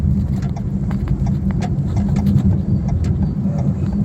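Maruti Suzuki Dzire with a three-cylinder engine driving, a steady low engine and road drone heard from inside, fairly loud and even, with small scattered clicks and no talk.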